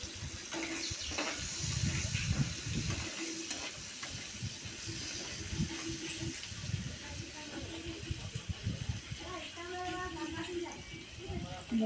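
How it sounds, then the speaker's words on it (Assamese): Onions sizzle in oil with salt and turmeric in a wok as they are stirred, a steady crackling fry with scraping strokes of a spatula and a spoken voice over the cooking. "ভাজি ল'ম।"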